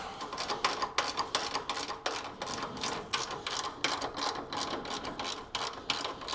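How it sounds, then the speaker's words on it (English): A 9/16 socket wrench loosens radiator brackets on a Triumph TR4, giving a fast, steady run of close ratchet clicks that carries on without pause. "we'll loosen up the brackets here with my 9/16"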